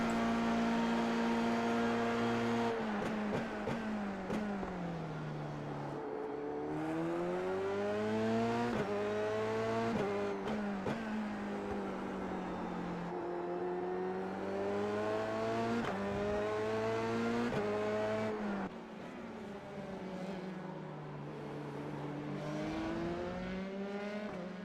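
Race car engines whine and rise and fall through gear changes during a racing video game at Circuit of the Americas, a continuous loud stream of revs with brief shifts and no talking.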